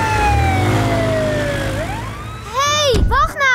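A cartoon police siren on a PAW Patrol vehicle wails in long, smoothly gliding tones, then breaks into rapid rising and falling sweeps near the end. It is loud and close.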